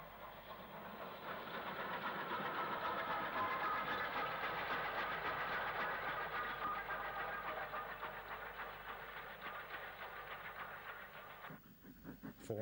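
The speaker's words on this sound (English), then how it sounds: "She is seen heading for Bristol with a freight from Westerly Yard and then returns with the brake van." Steam locomotive hauling a freight from Westerly Yard toward Bristol, a steady loud rumble with rhythmic wheel clatter sustained for most of the stretch before fading near the end.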